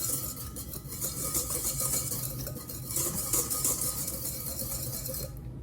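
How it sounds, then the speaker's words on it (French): Flour and sugar stirred together in a bowl for crêpe batter, a steady scraping and clinking of a utensil against the bowl that stays continuous and fairly close throughout. "On va mélanger d'abord la farine avec le sucre."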